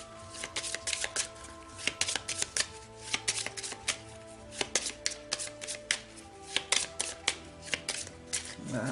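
Tarot cards are shuffled and cut by hand, a close, steady run of crisp riffling flutters and soft slaps repeating throughout with no voice.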